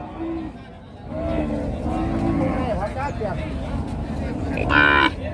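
Cattle moo loudly at a busy rural livestock market in Thailand, several drawn-out calls rising over crowd babble and background chatter, with one especially loud, close moo near the end.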